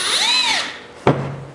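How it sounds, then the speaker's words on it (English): A power drill with a Phillips head bit driving screws, a rising and falling whine for about half a second followed by a sharp burst and a steady low drive tone, loud and close, with no talking. "drill in partially, not all the way, just to make sure that that pressure is evenly applied"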